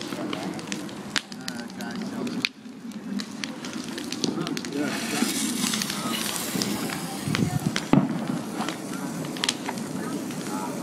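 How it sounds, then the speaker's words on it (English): A sparkler fizzes and crackles steadily with sharp little pops, while people talk nearby over the hiss. "It's a sparkler."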